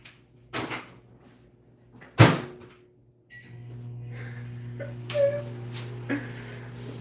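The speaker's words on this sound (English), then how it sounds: "he put it in the microwave, and I hear the microwave door shut." A microwave door thuds shut with a sharp close bang, followed by the steady hum of the running appliance, with a few small knocks over the drone.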